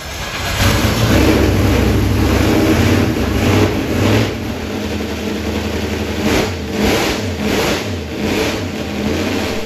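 An alcohol-burning big block Chevy idles with its idle raised, a loud, steady, rumbling engine close up that runs continuously with slight lumpy pulses.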